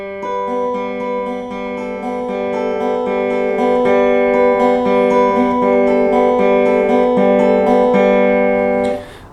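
The opening measures of a song played in an even 4/4 feel on clean guitar, a smooth repeating arpeggio of ringing notes with no pause or hiccup between bars.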